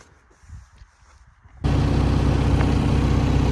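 After a quiet opening, the diesel engine of a CAT 420F2 IT backhoe loader cuts in abruptly and idles at about 950 rpm, a loud, steady, close rumble that holds to the end.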